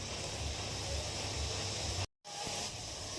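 Sugar syrup for rasgulla bubbles at a steady boil in a pot, a continuous soft hiss and simmer with a brief cut to silence partway through.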